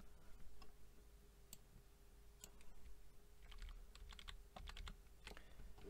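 Computer keyboard typing while working in Microsoft Word, with irregular sharp key clicks in short bursts over a quiet room hum.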